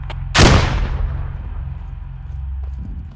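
A grenade explosion in the Squad combat video game, one loud close blast followed by a long rumbling tail, then a faint distant shot or two near the end.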